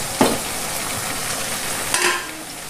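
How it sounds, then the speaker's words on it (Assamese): White gourd and duck pieces are stirred in a hot wok, a constant low sizzle with two distinct scraping strokes of the spatula, close and without speech. "এইখিনি এবাৰ ভালকৈ হিলাই দিম তল ওপৰ কৰি"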